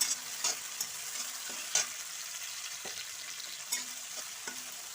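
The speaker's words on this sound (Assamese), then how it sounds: "এতিয়া বিলাহী আৰু কেঁচা জলকীয়াখিনি দি দিছোঁ। এইখিনি অকণমান বিলাহীৰ গোন্ধটো যোৱালৈকে ভাজি ল'ম" Chopped tomatoes and green chillies frying with onions in an oily pan, giving a steady close sizzle broken by repeated scraping strokes of a stirring spoon, with no talking.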